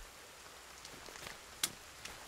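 Rain falling in the Sons of the Forest survival game, a faint steady patter with one sharp click partway through and no talking.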